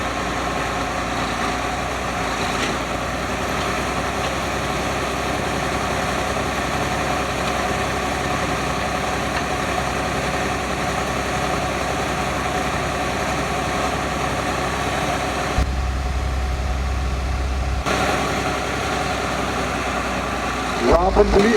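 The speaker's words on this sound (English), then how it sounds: "Nice pull for that tractor right there." Tractor engine at a tractor pull at the Essex County Fair, a constant low diesel drone with a heavier rumble near the end, under announcers talking.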